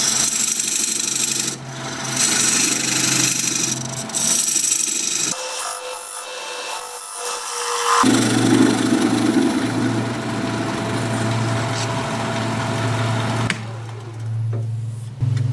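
A recess tool cuts into a spinning cherry wood bowl on a lathe, giving a continuous scraping, rasping sound over the lathe's steady hum. It drops out briefly, then returns close and loud before easing toward the end.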